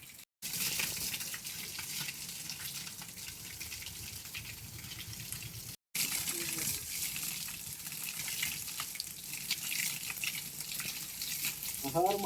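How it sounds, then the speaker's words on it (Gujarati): Water pours from a cow-mouth spout at a temple, a steady gushing rush that holds nearly constant across the whole stretch apart from two brief dropouts, with no talk over it. "અહીંયા પણ પાણી નીકળી રહ્યું છે"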